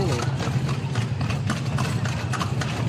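A horse's hooves clip-clop in a steady, even rhythm on the streets of Vigan City, Ilocos Sur, close and continuous under people talking, with a low engine hum behind.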